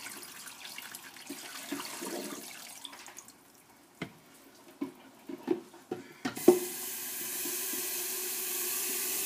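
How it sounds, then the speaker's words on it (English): Water is poured onto a substrate brick indoors, starting with faint trickles and a series of splashes and glugs, then settling into a steady louder pouring stream near the end. "So now we're just going to pour the water in."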